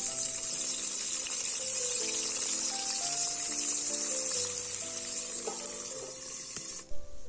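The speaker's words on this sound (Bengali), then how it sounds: "বাকি বেগুনগুলো এই তেলের মধ্যে ভেজে নেব একইভাবে" Eggplant slices fry in a pan of oil, a soft continuous sizzling hiss beneath background music that fades out near the end, followed by a brief clatter.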